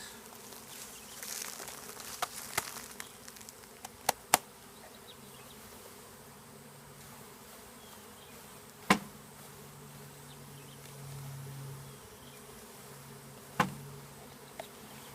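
A swarm of honeybees buzzes around as they are installed into a beehive box on a farm, a constant faint drone with a few sharp clicks and knocks standing out now and then, no voices.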